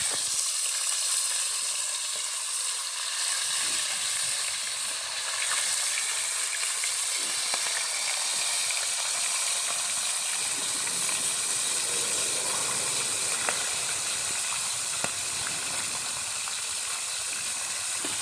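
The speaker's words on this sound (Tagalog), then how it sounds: "prito naman tayong galunggong" Galunggong (round scad fish) frying in hot oil, giving a steady, loud, close sizzle and hiss that runs unbroken throughout with no talking.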